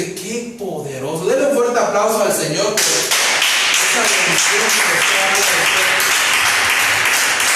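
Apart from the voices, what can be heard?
congregation applauding in church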